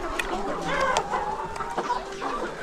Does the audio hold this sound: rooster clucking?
yes